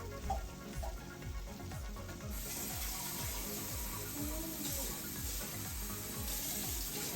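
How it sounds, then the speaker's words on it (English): Water runs and splashes steadily into a cooking pot of tomato sauce, a continuous pouring sound with faint clinks, close and fairly loud, no speech. "You're going to add a little bit of water in there."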